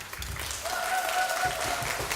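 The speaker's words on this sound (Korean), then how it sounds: "큰 박수 주십시오" Audience applause fills a children's composer recital hall in Uijeongbu as the next composer is welcomed to the stage, with a brief tonal sound running under the steady clapping.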